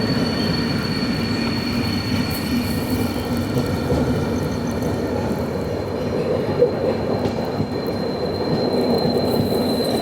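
The Vidarbha Express, train 12106, rolls steadily on the rails near Kalyan Junction, a continuous close rumble of wheels and carriages with a faint high squeal running throughout.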